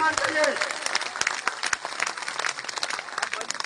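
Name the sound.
crowd clapping with both hands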